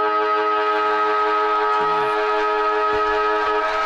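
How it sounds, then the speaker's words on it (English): End-of-game siren at a 2015 Division 1 EDFL Grand Final football match, a loud, steady, sustained tone that holds throughout over faint crowd noise. "Siren sounds for the end of the game."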